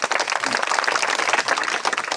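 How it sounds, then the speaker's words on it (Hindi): A crowd claps continuously, a dense patter of many hands at close range, lively and even for a couple of seconds. "ताली बजाइए, ताली।"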